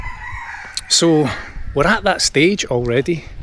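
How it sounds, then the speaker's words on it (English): A farm rooster crows several times in the background, each call rising and falling while a person talks steadily over it nearby. "You can hear the rooster in the background."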